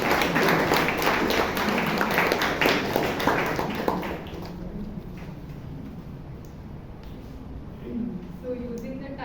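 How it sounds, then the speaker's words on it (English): Audience at a Toastmasters meeting in Bangalore applauding: dense clapping that is loud at first, then thins out and fades to scattered claps. "Please give a huge round of applause"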